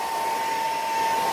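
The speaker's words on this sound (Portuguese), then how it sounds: "Pode vir com o secador de cabelo, ó." A hair dryer blows a steady, loud, even whoosh with a faint whine, used on the freshly glued lid of a Brastemp or Consul washing machine, with no talking.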